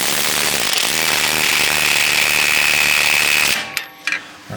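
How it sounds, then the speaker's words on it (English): Impact wrench tightening a Bilstein shock on a 2021 GMC 3500 AT4 truck, a loud continuous whirring hammer close by that stops abruptly, followed by a few short clanks. "So now I'm going to take this wrench, this impact, put it back on there, tighten this up while I'm right here."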